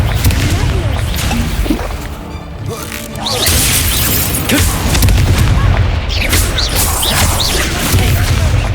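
Confringo fire spell explosions in the video game Hogwarts Legacy: loud, dense booms and crashes, one following another, under a voice shouting spell names.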